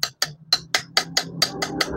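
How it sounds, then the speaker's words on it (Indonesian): A hammer taps a front motorcycle shock absorber seal into its housing during a repair of a leaking, badly scratched fork, nine sharp metallic strikes in a steady, slightly quickening rhythm, close and clear with no talking. "terus kita geruk pakai palu."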